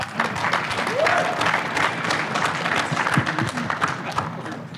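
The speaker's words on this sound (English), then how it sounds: "they do deserve a round of applause" Applause from an audience welcoming guests at a landscape contractor summit Q&A session, steady clapping filling the room for several seconds with a few voices mixed in.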